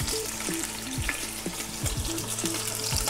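Lamb shanks sear in a hot pan with a steady, close, loud sizzle and crackle that runs unbroken throughout, with no voices over it.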